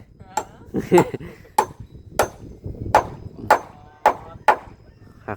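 Nails are hammered into wood while a house is being built, with about nine sharp, ringing strikes at uneven intervals, close and loud, and people talking faintly in between.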